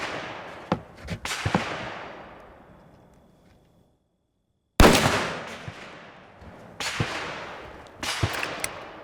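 Several sharp, loud 30-06 rifle shots firing 165 grain GMX bullets, each blast followed by a long ringing decay, separated by a brief silence and then a close pair of reports near the end.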